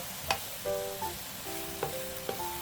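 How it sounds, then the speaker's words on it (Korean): Mushrooms and sausage stir-frying in a generous amount of oil, a steady close sizzle with a few sharp scraping taps of a utensil against the pan, and no voices. "기름을 넉넉히 두르고 버섯과 소세지를 넣어 볶아주세요"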